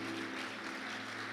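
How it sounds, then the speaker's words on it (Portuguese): Church congregation applause during a sermon, a faint, steady wash of clapping with a low hum beneath, lasting throughout. "Vamos aplaudir o Todo-Poderoso."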